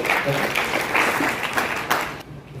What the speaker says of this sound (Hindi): जोरदार तालियों से इनका भी इस्तेमाल करिए